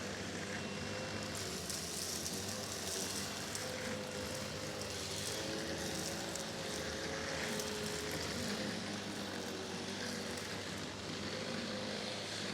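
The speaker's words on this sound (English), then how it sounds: "you can see it spins up very, very slow and allows for some of the objects to pass through" Wessel Werk HFT 265 soft roller hard floor cleaner head running on a vacuum, a steady airy suction whoosh with a low motor hum, continuous and fairly close, with no talking.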